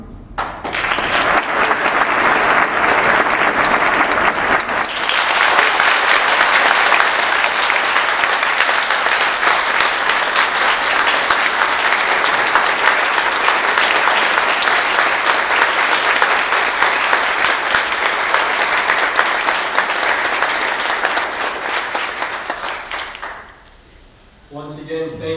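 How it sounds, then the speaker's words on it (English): An audience at a Women Led Revolution event in Canada breaks into sustained, loud applause that runs for over twenty seconds before fading out, with speech resuming at the end. "can we give a round of applause to Rojka?"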